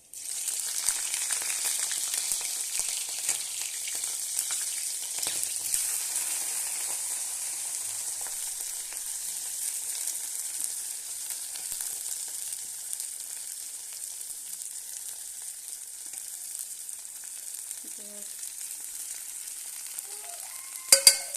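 Cumin seeds and garlic sizzling in hot oil produce a bright, continuous crackle that gradually softens, with a few soft utensil touches near the end, close up and with no voices.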